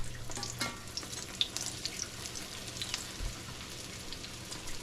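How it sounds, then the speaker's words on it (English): Naan bread fries hot and fast in a pan, giving a soft steady sizzle with scattered crackles and a few sharper pops, fairly quiet and with no talking. "our bread in there and fry it hot and fast."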